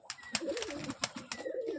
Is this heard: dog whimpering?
no